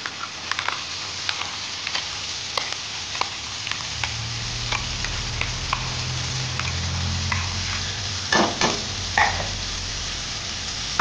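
Eggplant frying in a hot pan with garam masala for a Bengali home recipe gives a loud, steady sizzle that thickens midway, with occasional clinks of stirring and a short clatter near the end, no speech.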